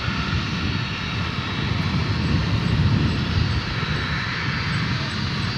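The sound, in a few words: Qantas airliner departing for Sydney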